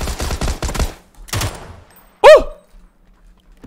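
Gunfire in the PUBG video game, heard over gameplay comms: a quick cluster of sharp, rapid shots, then a second short burst, followed by a loud exclamation from a player and near silence.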